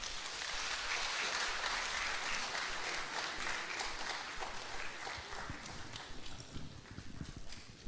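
Audience at a book launch applauds after a keynote speech: dense, steady clapping fills the room, loud at first and then gradually thinning and softening toward the end.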